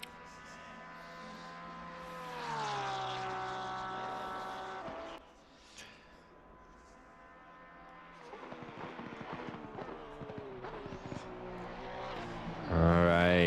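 A GT race car at Circuit of the Americas accelerating down the straight, engine note rising through gears with shifts, heard fairly faint from onboard with a louder burst at the end.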